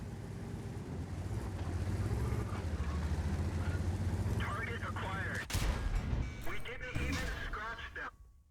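Tank cannon fire from a WZ tank in a tank video game, heard as sharp blasts in the later part, each followed by mechanical clatter over a low engine rumble, with a voice talking throughout.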